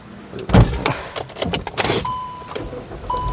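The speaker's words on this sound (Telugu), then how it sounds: "ఒకసారి ఈ కారు సింగిల్ సెల్ఫ్లో స్టార్ట్ అవుతుందా లేదా అన్నది చూపిస్తానండి" Close-up clicks and rattles of keys, then a short burst as the petrol engine of a 2014 Hyundai i20 Magna cranks and settles into a quiet, smooth idle.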